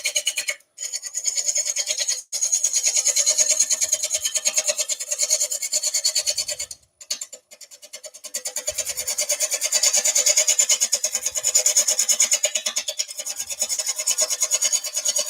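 A half-inch gouge roughs out a handled bowl on a wood lathe at about 600 rpm, giving a steady, close scraping rasp broken by a few brief pauses.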